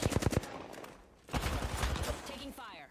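Rapid bursts of automatic gunfire sound in an online shooter game, loud and close, one burst at the start and a longer volley after a short pause, with voices talking over them.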